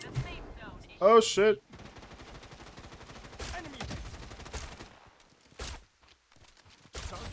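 Bursts of gunfire in Project Blood Strike, an online shooter, crack out intermittently as sharp loud shots between quieter stretches of game noise, with a man briefly exclaiming in between.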